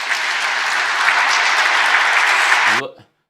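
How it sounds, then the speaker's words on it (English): An audience at a Constitution Day proclamation signing breaks into loud, sustained applause that cuts off abruptly near the end, with a brief voice heard as it stops. "I have to mute it because the clapping."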